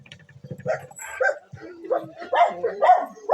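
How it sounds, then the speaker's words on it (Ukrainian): Dogs bark and yip in quick, excited bursts at close range, several overlapping calls with a low murmur of voices underneath. "Як Боже, що собаки творять"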